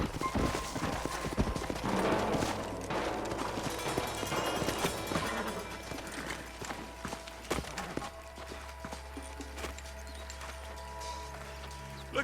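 Horse hooves clip-clop in the Western open-world game Red Dead Redemption, a steady walking rhythm up close among game music and ambience, with a brief burst of distant gunfire.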